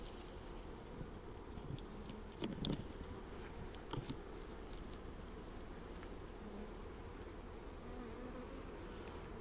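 Honey bees swarm around an open hive while a nucleus colony is being installed, a dense continuous buzz close by with a few louder passes as individual bees fly near.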